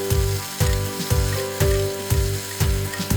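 Cabbage stir-frying with oyster sauce and soy sauce in a hot pan: a loud, steady sizzle broken by rhythmic stirring scrapes about twice a second.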